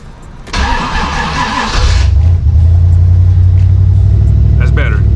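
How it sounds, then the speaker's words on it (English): A turbocharged SN95 Ford Mustang, running rich, cranks briefly with a starter whir, then catches and settles into a loud, close, steady rumbling idle with a slight rev. "Now, normally when I try to restart it, it will hesitate."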